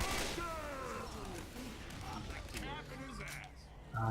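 Bursts of gunfire from Left 4 Dead 2 crackle intermittently under excited voices, with sharp repeated shots and clattering impacts close by.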